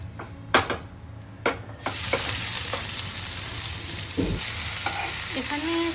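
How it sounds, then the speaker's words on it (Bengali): Cumin seeds crackle in hot oil with whole garam masala for a chital fish gravy, a few sharp pops giving way to a steady, loud sizzle, with occasional utensil clinks. "জিরে ফোড়ন দিয়েছি"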